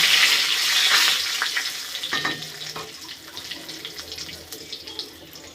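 Bay leaves drop into hot oil in a pan of khichdi made with sun-dried rice, alongside dried red chillies, giving a loud hissing sizzle at first that settles into quieter crackling and a few stirring clicks.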